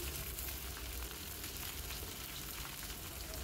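Pumpkin, ridge gourd and eggplant fry in a pan, a steady, dense sizzle that holds evenly throughout with no voices over it.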